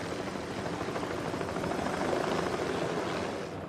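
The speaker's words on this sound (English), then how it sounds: "Helicopter is the only way in." A helicopter flies low over a barren volcanic landscape, its rotor drone a steady, continuous rumble that holds at a moderate distance throughout, with no voices.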